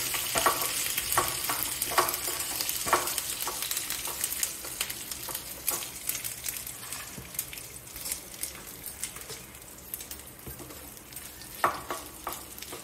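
Dried red chillies fry in hot oil for tempering a raw mango and coconut chutney, a continuous crackling sizzle with scattered sharp pops and spatters, moderately loud and close, easing slightly toward the end.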